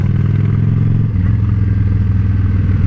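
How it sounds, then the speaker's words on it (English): Motorcycle engine droning steadily as the rider rolls the throttle on and off through a corner, with the engine note dipping and shifting midway before holding steady again. "entering the corner, roll on the throttle, off the throttle, use a little brake if you have to, go into the corner, roll on the throttle"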